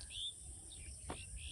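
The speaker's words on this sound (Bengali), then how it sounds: "পাখির ডাক," Birds chirp and call on a rural Bangladeshi morning, with a bright call near the start and a couple of short notes later, over a steady high insect drone.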